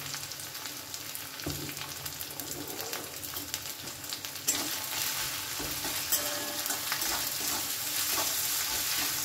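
Spice paste of onion, ginger and garlic frying in a pan over a medium gas flame, with a dense, steady sizzle and scraping stirs close by that grow louder partway through, with no speech.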